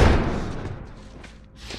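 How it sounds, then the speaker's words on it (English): A door is slammed shut and barricaded during a tense scene in The Last of Us, a heavy thud up front followed by softer bumping and scraping that fades, with a smaller knock at the end. "Barricade the door."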